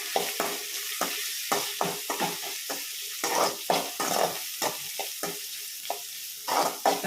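Onions frying in a pan for a coconut-carrot tomato thokku are stirred with a utensil, giving steady soft scraping strokes in an uneven rhythm over a continuous close sizzle, with no talking.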